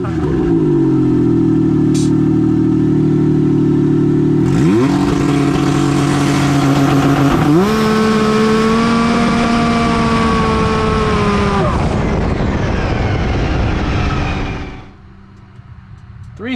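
A 550-horsepower methanol-fuelled Can-Am side-by-side running over 50 psi of boost pulls hard, its loud close engine note climbing and stepping up through several shifts before dropping off sharply at the end.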